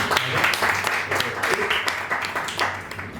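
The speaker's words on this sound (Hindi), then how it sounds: "सुनने वाले अच्छे बनो, तालियां बजाओ" Audience clapping at a Hindi poetry open mic, a short burst of hand claps mixed with talking voices in a small room.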